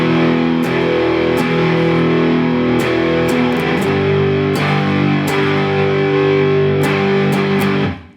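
Distorted electric guitar power chords on E then G from a song, strummed repeatedly, heavy and loud, with sharp attacks every second or so and a ringing sustain between strikes.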